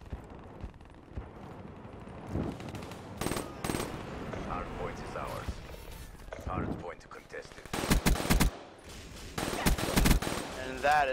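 In a multiplayer shooter match, bursts of rapid gunfire crack out in several loud clusters against continuous background game noise, with a player talking in between.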